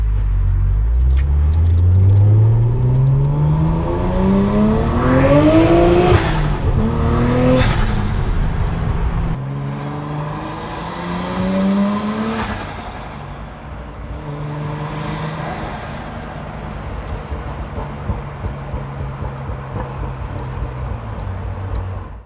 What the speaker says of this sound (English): absolutely amazing drive in the R33 Skyline